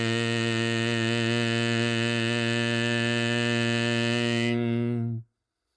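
A sustained qigong vocal chant of the healing sound "Shin" for the heart, held as one steady, even-pitched tone for about five seconds before it cuts off, with no talking over it.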